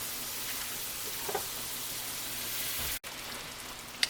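A tablespoon of unsalted butter sizzles with meatball grease in a frying pan, a soft, even hiss with faint crackles that cuts off briefly before carrying on.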